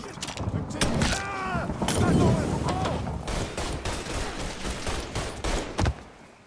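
Bursts of gunfire crack and rattle in the video game Mafia III, loud and repeated, with voices heard among the shots.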